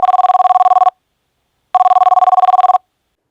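A telephone rings loudly and close, two separate bursts of rapid electronic trilling split by a second of silence.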